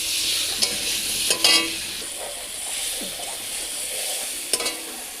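Food fries in a pan over a low gas flame after turmeric is added, giving a continuous sizzle with several sharp utensil scrapes and clinks from stirring.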